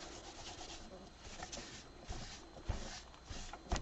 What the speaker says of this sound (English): What we want to do is now wipe that off, get rid of that so that the white pops out